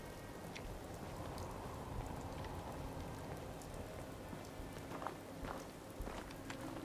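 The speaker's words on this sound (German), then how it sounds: "es regnet" Soft, steady rainfall in Fallout 4 patters continuously, with occasional faint footstep-like thuds mixed into the quiet downpour.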